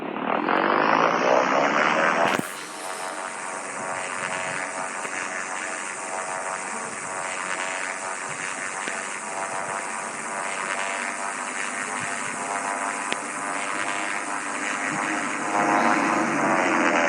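An airplane engine in the video game Indian Bikes Driving 3D drones loudly and steadily, shifting pitch after a brief opening surge, then holding a constant roar throughout.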